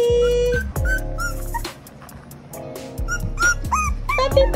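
A 30-day-old Bulldog puppy whimpers and lets out high, short yips in a quick irregular series, close by, with soft whines between the bursts and no talking.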